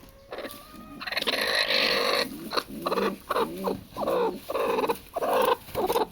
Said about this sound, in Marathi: ही कोंबडी आता अंड द्यायला बसेल असेल किंवा खुडूक झाली असेल